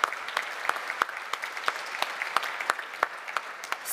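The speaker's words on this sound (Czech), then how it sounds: "Gratulujeme ještě jednou a tleskáme." Audience applause at the Grand Prix Architektů architecture award ceremony, a moderate round of sparse, distinct claps that holds steady from start to finish, with no talking over it.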